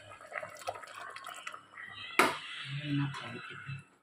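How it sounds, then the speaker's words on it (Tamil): Dissolved rice flour batter pours into boiling milk for paal kozhukattai, a sudden splash followed by a few seconds of soft liquid pouring and bubbling, moderately close and fairly quiet. "இப்போ கரைச்சி வச்சுருக்க அரிசி மாவை இதில் ஊற்றிடுவோம்."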